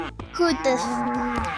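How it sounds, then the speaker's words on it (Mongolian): A cow moos in a long, close, drawn-out call while a voice speaks briefly over it. "За, үхэрээ, мөө гэж дуугарч хөдөл."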